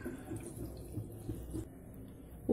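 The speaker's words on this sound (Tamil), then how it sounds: "தண்ணி சேர்த்துக்கலாம்" Water is poured from a tap onto washed mutton in a pot while making mutton curry, a running, splashing trickle with small drips and clinks, close by and alone.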